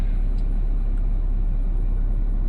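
A Mercedes-Benz 204 with a V6 engine idles smoothly and steadily after a misfire repair, a constant low rumble with no audible talk.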